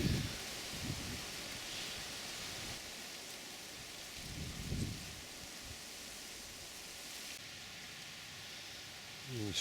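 Wind gusting through an October garden, rushing steadily with a couple of stronger low surges, no talking.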